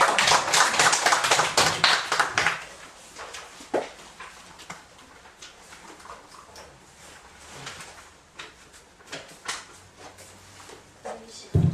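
An audience at a Buddhist lecture on the Diamond Sutra gives the professor a burst of dense, close applause for a couple of seconds. It fades into quieter scattered taps and a voice speaking.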